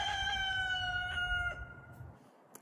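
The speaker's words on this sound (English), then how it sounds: "the rooster's rooting for us." A rooster crows once, a long drawn-out call close by that gradually trails off, followed by a brief quiet.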